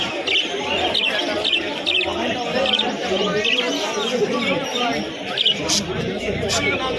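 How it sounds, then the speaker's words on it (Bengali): A flock of pigeons at a pigeon market in Bongaon coo and chirp together in a busy, noisy crowd, with people talking over the constant chatter. "এতগুলো পাখি একসাথে এক ঝাঁক পাখি"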